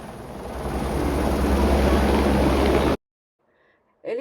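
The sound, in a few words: helicopter flying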